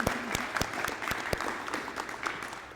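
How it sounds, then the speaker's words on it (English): Steady applause from a crowd at a high school letter of intent signing, dense clapping filling the whole stretch at a fairly even level, with a few sharper claps standing out. "I ask we give a big round of applause"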